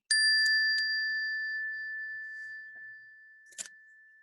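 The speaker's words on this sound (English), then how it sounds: "I'll ring the bell to start, and then I'll ring it again after 2 minutes." A small bell is struck once to start a timed writing exercise. A single bright ding rings out and slowly fades over several seconds, followed by a brief light clatter near the end.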